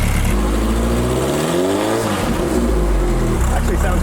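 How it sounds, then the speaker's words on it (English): A Ford Formula 2000 race car engine idles loudly and close by, with a brief rev that rises and falls in pitch midway before settling back to a steady rumble, while people talk over it. "Looks like we got ourselves a race car."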